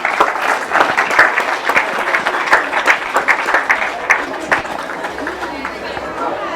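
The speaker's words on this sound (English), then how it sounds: "Let's give all of them a round of applause for a brilliant race in that final." Crowd applauding after a grasstrack race final, with steady clapping and some background chatter and voices, sustained for several seconds before tapering off.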